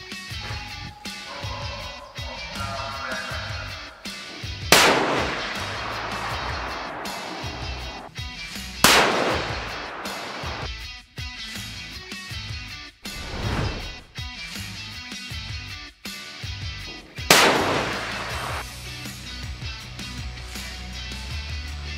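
Rifle shots from a Sabatti Saphire fired while zeroing a scope at a shooting range, four or five sharp loud cracks spaced several seconds apart, each with a short decaying tail, over a steady background.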